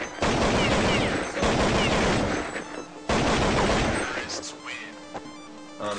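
Video game gunfire rings out in dense, rapid volleys, loud and harsh, with two sustained bursts separated by a brief break and trailing off into lighter scattered shots.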